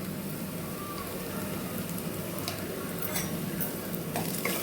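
Onions frying in a pan with ginger-garlic paste for a mutton curry, a steady close sizzle with occasional stirring clicks and scrapes, no talking.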